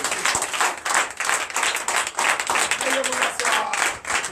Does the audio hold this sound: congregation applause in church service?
yes